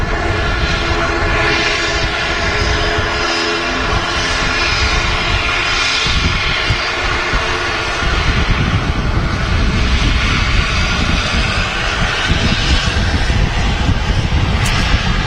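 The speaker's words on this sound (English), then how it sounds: "Very noisy aircraft, the ATR." A very noisy ATR turboprop airliner at Manchester Airport produces a loud, continuous droning engine roar with a tonal propeller hum, steady and close throughout with a slight swell midway.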